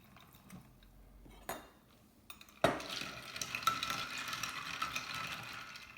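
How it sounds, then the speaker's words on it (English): Limeade made with reverse osmosis water is stirred in a container, starting with a few quiet taps before a sharp clink and then a continuous close swishing, scraping stir. "Stir it up"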